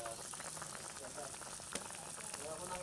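A pot of fish stew bubbles and simmers with a steady crackling, sizzling texture that stays even throughout, with a faint voice nearby.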